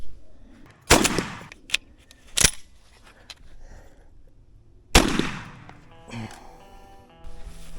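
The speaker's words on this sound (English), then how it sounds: "Gonna pattern this thing out. Put a full choke in it with some Dove shot." A shotgun with a full choke fires dove shot at a patterning target outdoors. Sharp, loud reports come a few seconds apart, and faint background noise fills the gaps between shots.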